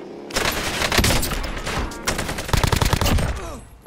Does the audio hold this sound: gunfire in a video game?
yes